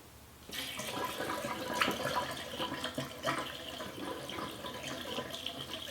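An egg, taken out after two days soaking in vinegar, is rinsed under a running sink tap, giving a steady close splash of water with small shifts as it is handled.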